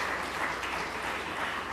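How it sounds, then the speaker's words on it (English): Audience applause at a business leader awards evening honouring nominees and winners, heard as a brief, faint, steady patter of clapping. "Ladies and gentlemen, a big round of applause for all our nominees and our winners here this evening."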